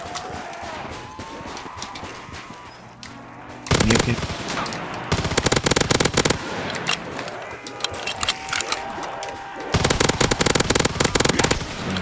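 Bursts of rapid automatic gunfire in Call of Duty Black Ops 3 Zombies on the Springfield map, loud dense rattling volleys in several long stretches broken by quieter gaps of game noise, no talk.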